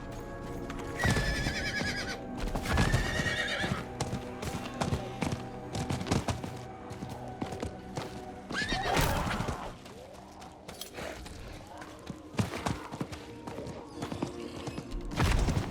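A horse mount in the Diablo 4 video game neighs and whinnies amid clip-clop hoofbeats of galloping, layered with busy combat effects and thuds at a steady, fairly loud level.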